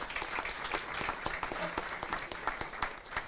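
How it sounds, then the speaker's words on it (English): At a school board meeting, an audience applauds honored students, with moderately loud, sustained clapping from a room full of people and individual sharp claps standing out throughout. "Let's give them a round of applause."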